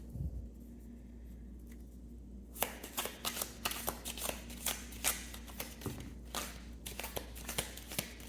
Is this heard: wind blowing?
no